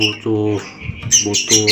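Caged songbird kept for song training gives harsh squawks and chirps in short bursts, loud and close, with pauses between calls.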